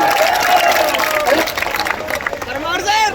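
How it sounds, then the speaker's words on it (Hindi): Audience at an SSC exam-coaching gathering clapping to welcome a guest, dense steady applause with crowd murmur throughout, fairly loud and close, while someone speaks over it. "एक बार जबरदस्त तालियां बजाई जाए"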